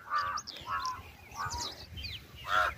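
Crows cawing in the cold early morning, about five harsh caws in a loose sequence, fairly near, over faint outdoor background noise.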